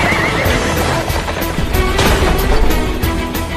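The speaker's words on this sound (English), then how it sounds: "This is a horse-drawn carriage." Horses pulling a horse-drawn carriage whinny loudly over steady clip-clop of hooves, a close neigh rising above the continuous trotting rhythm.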